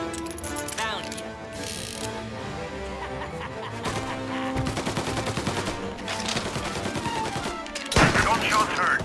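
Bursts of gunfire in the Mafia Definitive Edition video game crackle over a busy mix of music and shouting voices, with loud rapid shots piling up toward the end.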